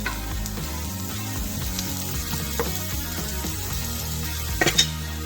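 Pieces cooking in a pan until translucent for pizza fries give a soft, continuous sizzle that sits under louder background music, with a couple of brief clinks near the end.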